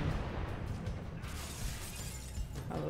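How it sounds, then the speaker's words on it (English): Glass shatters in the Halo video game, a short, fairly quiet, crackling burst of breaking panes with scattered sharp fragments over a low rumble. "And the glass breaks on this, but you don't fall through."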